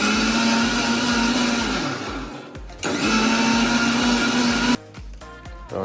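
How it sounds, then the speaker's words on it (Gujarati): A kitchen mixer blender whirs loudly, blending a homemade chikoo milkshake with sugar, running steadily with a brief pause and restart before cutting off near the end, heard alone without talk. "મિક્સિંગ કરી દઈએ, આપણે ચાલુ કરીશું"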